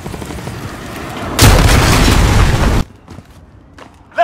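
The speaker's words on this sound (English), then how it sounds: "Missile incoming!" A missile strike explodes in Call of Duty Warzone, played on an Acer Nitro 5 laptop, a loud sustained roaring blast lasting over a second that cuts off abruptly, followed by quieter game sounds and a short sharp burst at the end.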